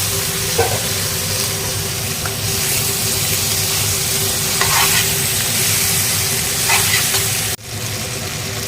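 Boiled, mashed meat frying in a pan and being stirred, a steady close sizzle with scraping strokes throughout, cut by a brief dip near the end.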